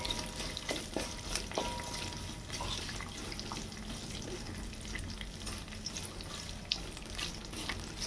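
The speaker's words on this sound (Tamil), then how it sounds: "நம்ம இந்த வெளுத்துள்ளியோட இதெல்லாம் வந்து கலர் கோல்டன் கலர் ஆகிற வரைக்கும் நம்ம வதக்கிக்கிட்டே இருக்கணும்" Garlic sautéing in a pan over a medium flame, a soft continuous sizzle with scattered scraping stir strokes and light clinks, fairly quiet and close with no talking.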